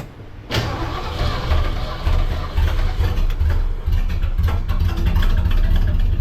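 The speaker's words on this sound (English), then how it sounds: "It sounds like a lifter." A cold 1970 Mercury Cougar XR7 V8 cranks and catches, then idles roughly with a light rhythmic ticking from a valve lifter, close and steady after the start.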